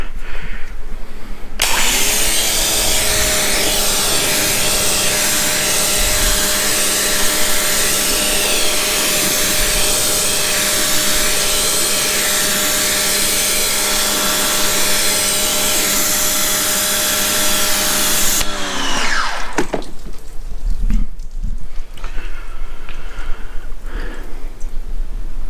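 Loud, steady hiss and drone of a pressure washer rinsing a car during detailing, running unbroken for about seventeen seconds before cutting off, with quieter handling noises after.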